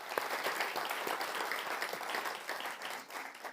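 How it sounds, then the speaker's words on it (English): At a Young Londoners summit, an audience gives a sustained round of applause: many hands clapping in a dense, even wash that holds for several seconds at moderate distance before thinning toward the end. "So can I just give a massive round of applause to them?"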